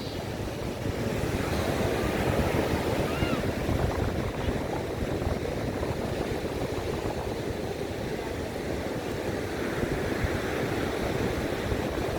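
Steady, loud surf roars without a break, waves crashing and washing continuously with gusty wind noise over the top.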